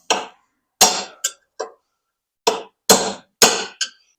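Sharp metallic hammer blows drive a punch against steel motor cradle bushings, seven hits in irregular pairs and singles with brief ringing decay and silent gaps between them, close and loud.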